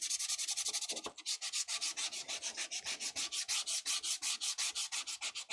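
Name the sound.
sanding a surface with sandpaper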